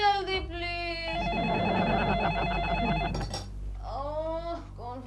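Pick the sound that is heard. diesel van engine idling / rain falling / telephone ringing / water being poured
telephone ringing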